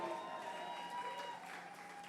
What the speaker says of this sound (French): Et on acclame très fort pour le roi de gloire.